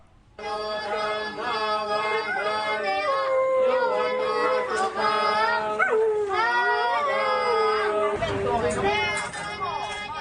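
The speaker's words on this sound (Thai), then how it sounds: "มีการหอนรับพรด้วยตามเวลาที่พระท่านให้พรนะคะ" A dog howls along with Buddhist monks chanting a blessing at a market, its long, wavering, loud and close howl running almost unbroken for about ten seconds as the chanting voices continue beneath it.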